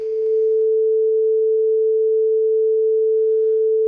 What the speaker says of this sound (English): we saw a sine wave up here because there was just one sine wave